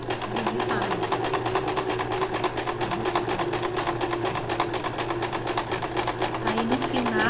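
A Janome sewing machine runs a zigzag stitch on a chita-fabric dish towel, a fast, even mechanical chatter holding steady throughout while someone talks over it.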